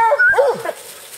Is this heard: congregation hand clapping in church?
no